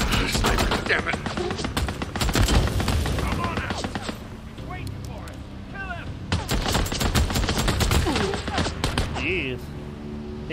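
Gunfire in the game Days Gone, a sniper among the shooters: sharp repeated shots and bursts in dense clusters, loud and close, with a voice speaking in between.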